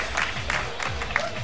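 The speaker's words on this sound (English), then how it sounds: "They're cheering for Rig as well." A tournament crowd at a Dead or Alive 5 Ultimate event cheers and claps for the player Rig in steady rhythmic bursts, with commentators talking over it.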